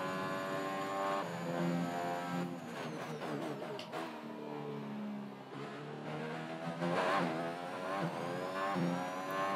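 A Formula 1 car at full speed on a fast lap in F1 2021, its high-revving engine whining loud and close, pitch sweeping up through the gears with brief drops at shifts and a lift near the middle.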